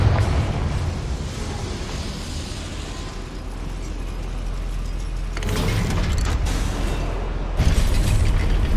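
Confringo spell blast inside a goblin mine in Hogwarts Legacy, heavy booming bursts with rumbling debris, a loud impact near the middle and another strong blast near the end over low continuous rumble.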